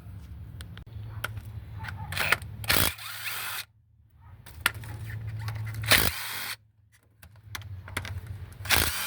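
8mm valve cover bolts come out of a 2013 Chevy Tahoe 5.3L with a power tool, several close whirring bursts of a few seconds each, with short pauses and clicks between them.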